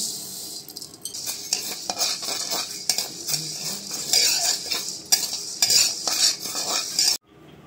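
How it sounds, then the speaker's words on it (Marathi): Grass pea lentils (lakhachi dal) dry roasting in a pan, stirred with a utensil that scrapes and clinks in a steady irregular rhythm over a light rattling of grains, close up with no talk. "आता आपण ही लाखाची डाळ भाजून घेऊ।"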